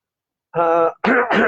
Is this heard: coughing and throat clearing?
yes